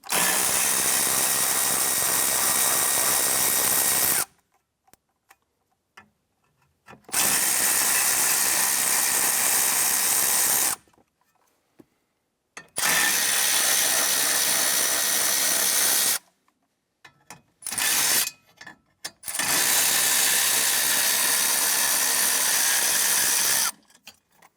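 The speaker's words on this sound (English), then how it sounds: "Remove this lower metal panel here using a 10mm socket." Power tool driving a 10mm socket to remove bolts from the lower metal panel of a 2008-2013 Nissan Rogue: four loud, steady whirring bursts of several seconds each, close by, separated by near silence.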